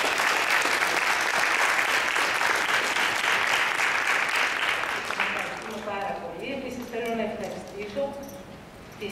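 Audience applause at a school theatre group's music event in Greece, a dense sustained clapping that fades after about five seconds as a voice begins speaking over the tail end.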